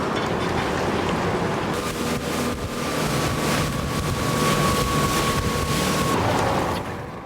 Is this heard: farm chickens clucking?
no